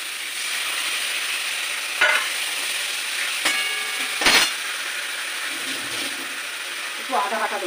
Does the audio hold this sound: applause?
no